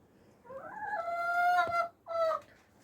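A chicken in a backyard coop gives a drawn-out, rising call followed by a short second squawk, loud and close, alone over faint outdoor background.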